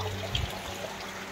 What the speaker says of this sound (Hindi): पानी बाल्टी में ही गिर रहा, खत्म नहीं होगा,